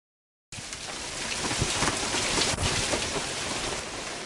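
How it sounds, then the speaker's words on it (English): Heavy monsoon downpour with strong winds in Tucson, a dense, roaring wash of rain and gusts that starts abruptly and stays loud and steady, with low rumbles like distant thunder and no voices. "Pounding rain, strong winds,"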